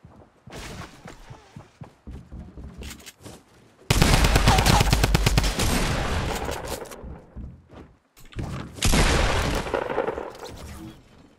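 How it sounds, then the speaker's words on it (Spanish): Gunfire in the Fortnite video game: a long, loud burst of rapid automatic shots, then a quieter gap, then a second heavy volley, with softer scattered shots at the start. "Alguien me ha disparado desde lejos."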